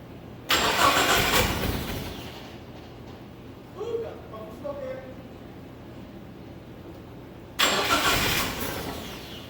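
An SRT4-powered drift truck engine cranks and catches with a loud burst, falls quiet while people talk briefly, then cranks and fires up again near the end.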